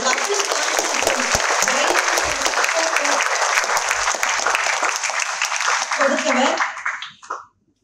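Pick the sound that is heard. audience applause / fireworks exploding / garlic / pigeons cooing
audience applause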